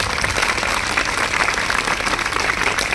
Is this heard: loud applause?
yes